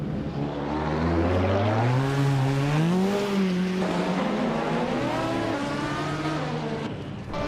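A 1969 Lola T163 race car in a racing video game, its engine loud and close, climbing and falling in pitch through gear changes and sustained revs for several seconds, with no talking.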